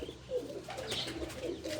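Female pigeon cooing at close range, a few soft low murmuring coos over faint background noise, with no voices.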